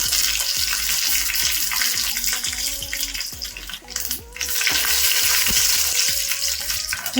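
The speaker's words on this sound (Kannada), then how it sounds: "ಸಾಸಿವೆ ಚಿಚ ಚಿಚ ಇದೆ" Mustard seeds spluttering in hot oil as tempering for sambar, a close, continuous sizzle with scattered crackles and a few soft pops.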